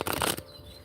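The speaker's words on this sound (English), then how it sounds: "I don't know why I wanted to shuffle like that." Tarot cards being shuffled by hand: a quick papery riffling burst lasting under half a second, fairly close, followed by quiet room tone.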